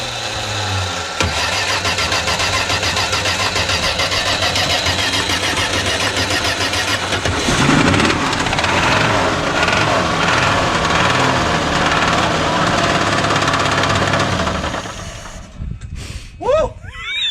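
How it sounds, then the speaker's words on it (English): The engine of a Plymouth Volare cranks and fires, then runs roughly with a loud, continuous rumble and a persistent knocking rattle. The noise cuts off near the end, followed by brief excited voices. "It definitely sounded like an engine knock"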